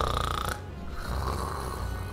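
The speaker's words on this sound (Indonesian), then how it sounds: "Ya, ada suara orang ngorok ya." A person snoring nearby, a steady rasping breath sound with one shift partway through, heard alone with no talk.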